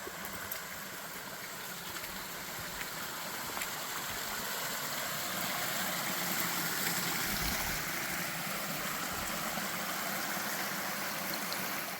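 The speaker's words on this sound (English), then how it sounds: "Got a little falls flowing in back there." A small waterfall spilling into a creek along a Kentucky cliffside, a steady, soft rushing wash that holds evenly throughout with no voices over it.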